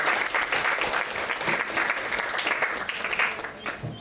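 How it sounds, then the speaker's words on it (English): An audience breaks into sustained, dense clapping indoors after a meeting speech, loud and close, holding steady for several seconds before tapering slightly. "So why don't we give ourselves all a big round of applause."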